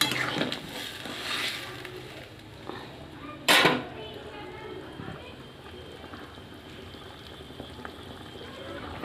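In a winter-vegetable catla fish curry, a pot is stirred with a spoon that scrapes and clinks, then the liquid bubbles and simmers. One sharp clatter stands out early on, and a low kitchen hum runs through the whole stretch.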